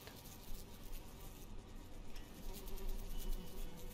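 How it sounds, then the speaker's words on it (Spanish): Flies buzzing indoors in Gas Station Simulator video game, a continuous wavering drone over a dense game background, fairly loud and steady throughout. "Hay moscas."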